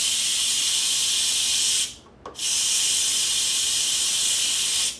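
Loud, steady steam hiss from an Instant Pot pressure cooker, cut off briefly for a moment near the middle, then resuming just as strongly until the end.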